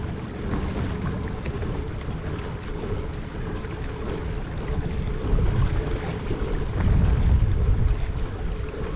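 Heavily loaded boat cruising along a river at about 7 km/h in wind and rain, a steady low engine and water rumble with gusty wind noise buffeting the microphone.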